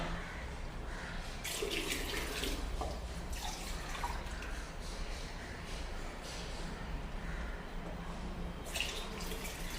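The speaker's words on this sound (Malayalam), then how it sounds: "രണ്ട് ലിറ്റർ വെള്ളമാണ് ഒഴിക്കണത് കേട്ടോ." Two litres of water pour and splash steadily into a container for making wine, a soft continuous trickle with occasional drips, fairly quiet and with no talking.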